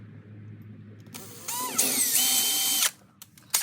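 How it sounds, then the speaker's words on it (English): A power drill bores a pilot hole in the centre of a coil's end cap, part of a homemade Wolf River-style coil. It makes one short, loud whine that rises in pitch, then cuts off abruptly, with faint clicks afterward. "So let us just drill a pilot hole"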